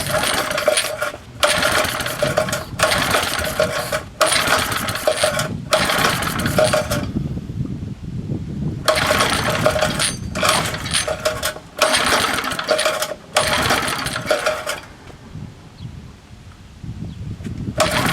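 A 1961 Briggs & Stratton small engine, red, after priming, sputters and runs in repeated bursts, loud and close, with short cutouts between them and a longer stall in the middle before it catches again.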